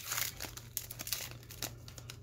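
A Panini Prizm baseball card pack is crinkled and torn open up close, with quiet rustling foil and a few sharper tearing bursts, no voices.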